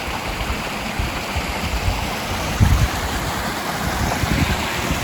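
Thielsen Creek flowing at a lunch stop along the Pacific Crest Trail, a steady, dense broadband rush of running water that stays close and continuous throughout, with no talking.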